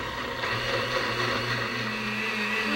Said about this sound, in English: And then gradually increase the speed of the blender.